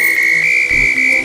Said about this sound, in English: I like that whistle.